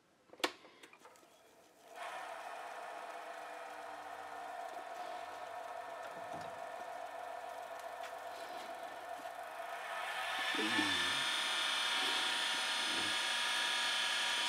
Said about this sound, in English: Lock down my lathe. And now I'm ready to turn between centers